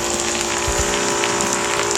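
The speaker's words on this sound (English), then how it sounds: "it's raining, it's pouring out. You can see water coming down" Heavy rain pours outside in Vancouver, Washington, a steady close hiss of falling water with a few low thumps, continuous and loud throughout the short stretch.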